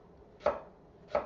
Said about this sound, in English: go ahead and chop this real quick. Just cut it real fine